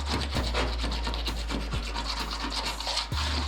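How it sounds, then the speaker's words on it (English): Razor blade scraping softened residue off a car body panel, close raspy scraping strokes repeating steadily under a low constant hum. "take a razor blade to it"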